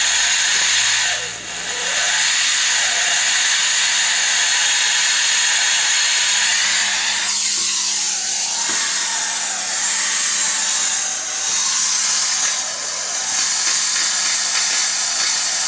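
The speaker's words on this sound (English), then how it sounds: "I might just leave it on and let it pump all that water through," A repaired, partly gummed-up steam mop runs continuously, giving a loud, steady broadband hiss and hum of steam and pumping water, with slight dips and swells and no talk over it.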